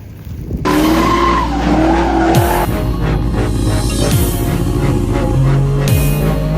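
A Mazda RX-7 race car drives hard on track, its loud engine droning continuously with tires screeching and skidding and revving gear changes, close and with no talk.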